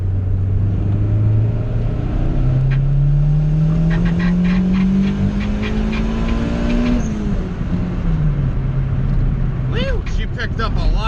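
Turbocharged Honda Civic with a GSR engine swap accelerating hard in third gear, a loud, close engine roar rising steadily in pitch over several seconds, then easing off, with a voice speaking over it.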